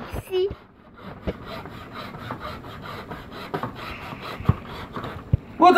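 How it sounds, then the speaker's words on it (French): A large saw rasps back and forth through wood for a birdhouse in repeated strokes, moderately loud, with a few sharp knocks and a brief voice near the start and end. "maintenant, on finit avec la scie."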